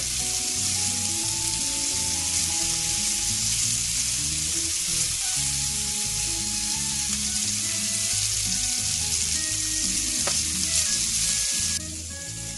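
Peri peri chicken fries in a pan with a dense, steady sizzle, loud and close, broken by soft stirring and shifting sounds throughout.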